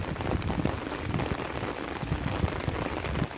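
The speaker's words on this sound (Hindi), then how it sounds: "प्री मॉनसून की ये बारिश हुई और पहली ही बारिश ने प्रशासन के तमाम दावों की पोल खोलकर रख दी" Heavy pre-monsoon rain pours onto flooded city streets in Dausa, Rajasthan, a dense steady hiss with scattered patters and splashes throughout, loud and continuous with no voices.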